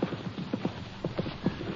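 Hooves of a single free-moving horse clip-clop in a steady, fairly close rhythm, sounding as a radio drama effect in a Texas Rangers western, with no voices over the beat.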